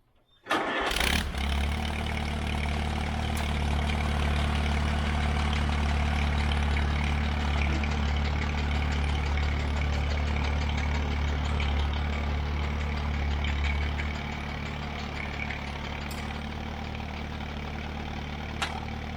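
An Allis Chalmers CA tractor engine starts with a sharp catch, then runs at a steady, loud idle with its PTO engaged, a deep rhythmic throb continuing alone and easing slightly toward the end.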